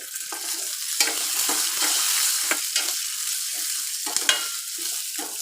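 Cut onion, ginger and garlic frying in a pan give a constant loud, close sizzle, with spatula scrapes and clacks marking the stirring at irregular intervals.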